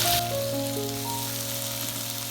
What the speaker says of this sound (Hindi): एक दो दफ़ा इसको ऐसे फ्राई करेंगे। साथ ही हम टमाटर डाल देंगे।